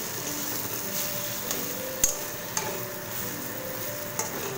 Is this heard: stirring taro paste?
yes